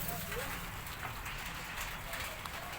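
Steady rain falls during a sudden flood in Assam, a dense, continuous hiss of drops pattering on surfaces that holds at an even level throughout.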